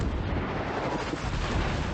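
Naval gunfire from a cruiser in World of Warships, heavy rumbling booms of the guns blending into a dense, continuous roar of shots, loud and close, with no voices.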